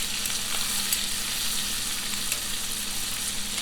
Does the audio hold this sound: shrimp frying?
yes